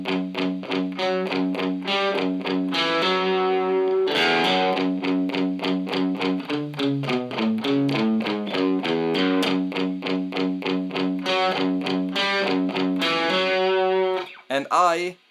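A distorted electric guitar plays a fast, repeating riff, chugging, crunchy notes running almost nonstop, then breaks off into a few scattered picks at the end.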